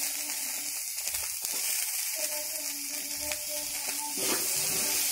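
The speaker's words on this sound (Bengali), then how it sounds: "ছিঁকে রাখা থোড়গুলো একটু ভেজে নেব" Drained banana stem and soaked chickpeas frying in a pan for a vegetarian Bengali dish, a steady, close hiss and sizzle of oil with light stirring clatter running through.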